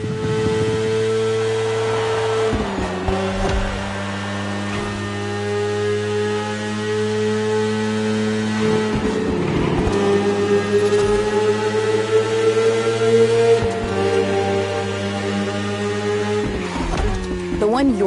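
A BMW S1000RR superbike engine in a PS4 racing game drones steadily at high revs, with sustained harmonic tones that shift in pitch at gear changes every few seconds, loud and continuous throughout.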